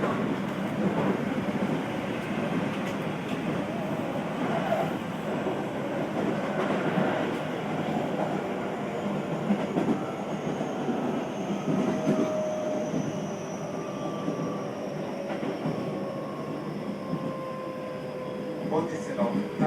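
A Keio Line new 5000 series train running as the Keio Liner limited service makes a steady onboard rumble and rolling noise, with faint rising motor whine passing through at times, continuous and fairly loud from inside the carriage.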